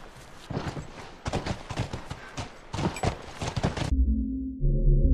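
Rapid rhythmic hoofbeats of horses galloping in the video game The Last of Us, loud and steady, followed by a low droning tone near the end.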